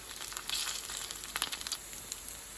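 Potato gnocchi frying in a pan give off a steady close sizzle with bright crackling texture, a few sharper pops and crinkles rising out of the continuous hiss.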